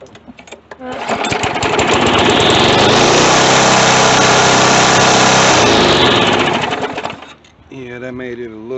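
A Poulan Pro lawn mower with a 148cc 450 series Briggs & Stratton engine starts and runs at a loud, steady buzzing roar for several seconds, then drops off sharply, with faint rattles at either end.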